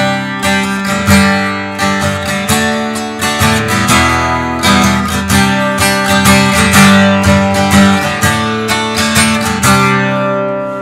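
A steel-string acoustic guitar strummed and picked in a lively rhythm, full and close, playing continuously without any voices.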